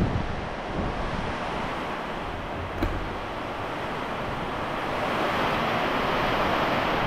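Heavy typhoon rain and strong wind lash a garden villa construction site, a dense, steady roar of downpour and gusts filling the whole stretch with no pauses, loud and close, swelling slightly toward the end.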